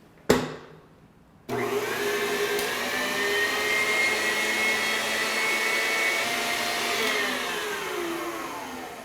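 An electric mixer whips deviled egg filling in a steady, loud whirring drone that kicks in after a brief knock and runs on evenly without a break.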